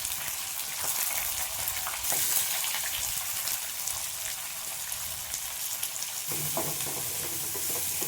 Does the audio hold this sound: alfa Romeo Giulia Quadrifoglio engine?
no